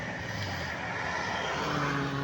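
An AW70 dual-purpose corn and rice combine harvester engine runs steadily in a farm field, a constant loud droning hum with no breaks.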